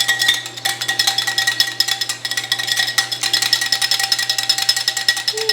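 Two eggs being whisked in a bowl while making cinnamon rolls, a fast steady rhythm of clicking, clinking strokes running throughout at close range with no talking.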